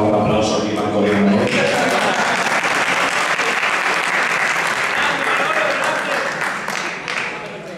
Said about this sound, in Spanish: Por favor, un aplauso aquí para el gobierno.